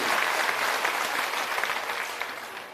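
Applause from an audience at an outdoor village rally, a dense, steady wash of clapping that carries on without a break throughout.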